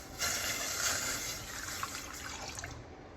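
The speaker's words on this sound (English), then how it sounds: "what I'm going to do now is I'm going to pour all my milk" Milk pouring into a bowl for a fruit flan custard, a soft continuous splashing trickle that starts sharply and tapers off over a few seconds, quiet and close.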